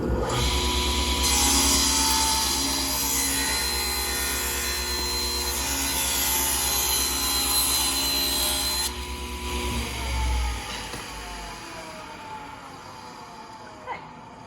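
A table saw rips narrow wood strips, a loud steady whine with a low motor hum running for about nine seconds before the blade spins down, with faint handling noises after.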